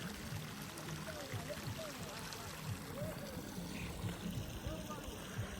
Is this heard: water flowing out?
yes